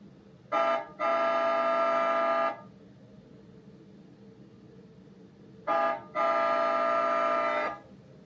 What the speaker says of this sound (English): we can try a few other things, like maybe honk the horn